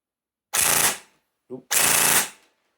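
A Well Pro WE10-2 DSG airsoft SMG fires two short, loud full-auto bursts at over 28 rounds per second, close by, with a brief voice heard between them.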